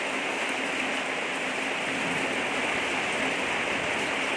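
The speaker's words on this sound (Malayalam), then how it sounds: "ഇവിടെ ഭയങ്കര മഴയാണ്" Heavy rain pours down steadily at a roadside workshop where a three-wheeler auto rickshaw is being fitted with an air horn, a dense, unbroken hiss filling the whole moment with no voices over it.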